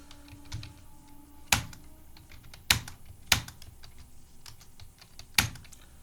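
Keys tapped on a computer keyboard while entering details in TallyPrime accounting software: four or five sharp, separate clicks spaced unevenly over a few seconds against a quiet room.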